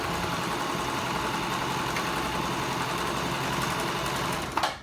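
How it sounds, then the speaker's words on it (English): Sewing machine running steadily as it stitches a fabric scrunchie, a continuous close motor hum with rapid needle rhythm, ending in a brief clatter as stitching stops. "I'm going to go forward and reverse a little bit to lock the stitch"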